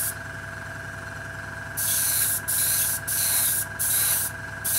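An airbrush driven by a compressor sprays coating onto a Revell 1/144 plastic model kit of HMCS Snowberry, in four hissing bursts with short gaps between them, over a steady low compressor hum.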